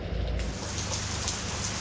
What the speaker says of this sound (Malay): Kita tunggu hujan yang turun.